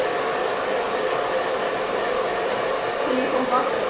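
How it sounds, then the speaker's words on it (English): A blow dryer runs steadily on hair during a salon haircut for a short bob, a continuous airy whoosh that stays loud and close throughout, with a faint voice underneath. "I can't hear you over the blow dryer"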